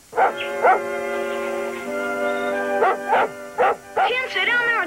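A dog barks repeatedly in short, loud bursts close by, with a few longer whiny yips mixed in.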